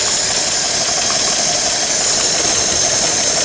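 A Chevy 235 straight-six engine runs loud and close, a dense steady roar with a rattling, knocking edge. The level rises slightly toward the end.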